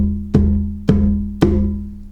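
A tubano drum is struck three times at an even, unhurried pace. Each hit is a close, full, resonant boom with a sustained low tone that rings on between strokes, and no one talks.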